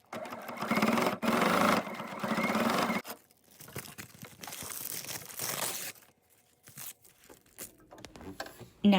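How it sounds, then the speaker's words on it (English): A sewing machine runs in bursts while stitching a handle loop onto a small vinyl bag, loud whirring stretches broken by pauses, followed by faint crinkling and handling noises near the end. "Now sew the handle loop with a straight stitch."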